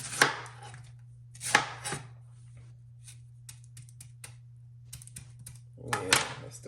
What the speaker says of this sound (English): Then we're gonna cut that bottom off. Cut the core out.